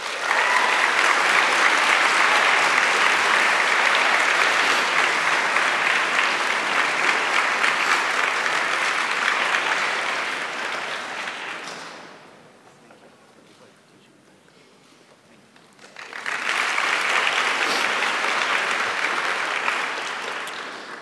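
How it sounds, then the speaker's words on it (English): Audience at a graduation ceremony applauds loudly for about ten seconds, falls quiet briefly, then breaks into a second long round of clapping. "please give a round of applause"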